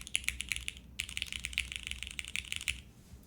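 Rapid, close keystrokes on a TKD Cycle7 custom mechanical keyboard, clicking and clacking in quick uneven bursts with a brief pause about a second in and a fade at the end.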